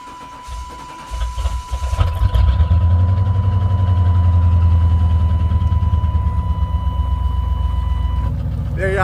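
An OBS Yukon, freshly fitted with a relocated gas tank, cranks and settles into a steady, deep idle rumble that stays loud and close for several seconds, with a thin constant tone running alongside.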